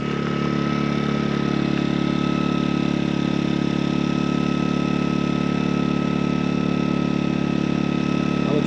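MaxPeedingRods 3200 watt inverter generator running at full speed with its idle-saving mode off, giving a steady, even engine drone with a constant hum and no change in pitch throughout; no voices.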